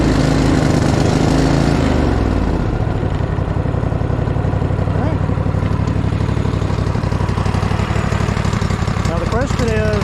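A Craftsman T240 riding mower engine cranks with the choke on, catches, and settles into a steady, loud, close idle that runs alone for the rest of the stretch.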